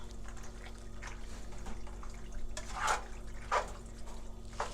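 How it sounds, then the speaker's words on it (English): Liquid poured into a mixing container while cooking at home, heard as a few short, faint splashing pours over a steady low background hum. "You're gonna pour it a little bit."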